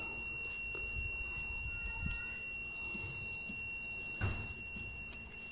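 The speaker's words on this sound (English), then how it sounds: "So I don't lose the beeping sound." A Holden Astra 2000 with a Z18XE engine, where a multimeter checks the mass air flow sensor wiring: a steady, faint, high continuity tone holds throughout while a connector is wiggled, with soft handling knocks beneath it.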